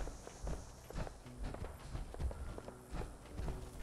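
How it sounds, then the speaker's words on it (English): An enemy's heavy footsteps stomp around in the video game Fallout 4, a quiet series of irregular thudding steps that keep going throughout. "I hear you stomping around"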